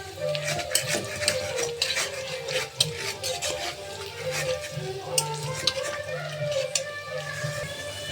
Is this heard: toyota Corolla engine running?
no